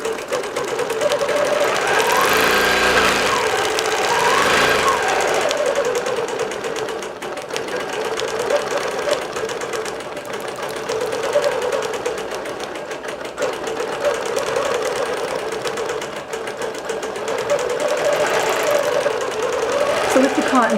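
Digital quilting machine stitching fabric with cotton thread and a 90 ball point needle, a steady loud continuous mechanical whir with rapid stitching rhythm throughout, with a voice talking over it.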